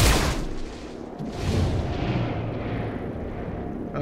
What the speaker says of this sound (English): let's just shoot this hitman